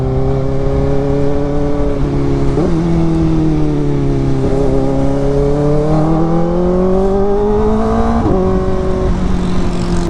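A Kawasaki Ninja ZX-4RR engine hums at high revs during a ride, its loud steady whine rising and dropping with several gear shifts, wind rushing underneath.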